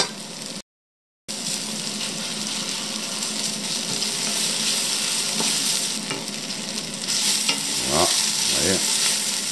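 Onions and garlic browning in a pan for traditional French onion soup, a loud dense sizzle with scraping strokes across the pan bottom near the end, after a brief dropout, close up with no talking.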